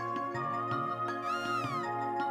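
A cartoonish cat meows in Chrono Trigger DS, a single short game-sound mew rising and falling over looping game music with soft rhythmic beats.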